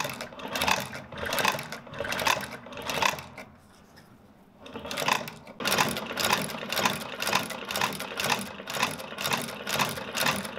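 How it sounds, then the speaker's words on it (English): A patching machine stitching insoles onto brittle 80-plus-year-old leather boots during a restoration, giving steady rapid mechanical needle strokes in close, even bursts with a short pause before the rhythm resumes. "We're going to do that here on this patching machine."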